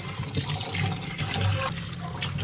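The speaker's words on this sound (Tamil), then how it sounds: "உப்பு போட்டு ஒரு நாலஞ்சு தடவை நல்லா அலசி எடுத்துக்கலாம் தண்ணியோட" Stingray fish being rinsed by hand in water with salt, a loud close splashing and sloshing of running water that continues without pause.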